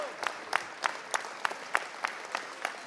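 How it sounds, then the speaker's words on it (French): Young pastry competition winners receive applause at a diploma ceremony. The claps are faint and sparse, landing in a steady, evenly spaced rhythm like a small group clapping together. "Voilà, on peut les applaudir."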